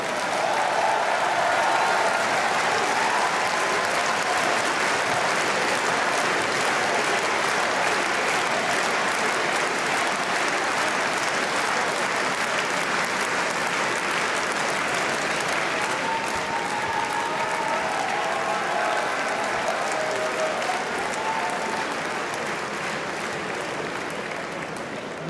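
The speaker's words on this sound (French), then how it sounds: "je vous demande un tonnerre d'applaudissements pour notre candidate" A large crowd at a political party congress gives loud, sustained applause for a candidate, a dense unbroken wash of clapping and cheering lasting throughout.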